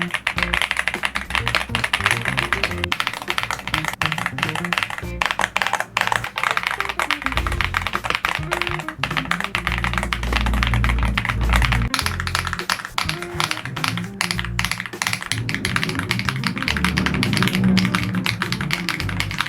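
Mechanical keyboards, a Leobog Hi75C, an Aula F75 Star Vector and a Weikav 75 with Cloud switches, typed on in turn, giving steady close, rapid clacking and thocking keystrokes with no speech.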